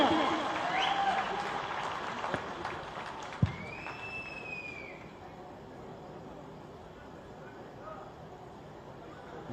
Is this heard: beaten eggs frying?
no